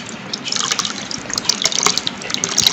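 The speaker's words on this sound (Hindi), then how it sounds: "अब इसमें हम चिल्ड वाटर लेते हैं," Chilled water poured into a bowl for a KFC-style chicken batter, a close splashing, trickling stream with dripping bursts, alone without talk.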